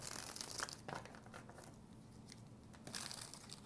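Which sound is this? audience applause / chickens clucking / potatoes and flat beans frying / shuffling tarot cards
shuffling tarot cards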